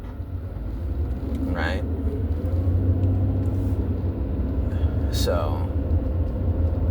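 Inside a moving car, a steady low engine and road rumble runs under a man's close conversational speech.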